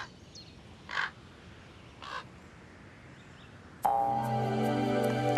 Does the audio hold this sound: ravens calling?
yes